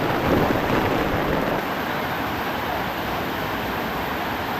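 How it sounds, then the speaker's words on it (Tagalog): Heavy rain falls steadily, a dense even hiss with no break, loudest at the start and then holding level for the whole stretch. "May ulan eh"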